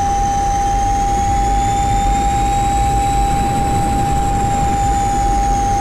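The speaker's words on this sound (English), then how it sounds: "we can hear the engine exactly what the engine's doing" MiG-21bis jet engine heard from inside the cockpit in the DCS flight simulator, a steady loud roar with a constant high whine and rising tones above it, unbroken throughout with no talk.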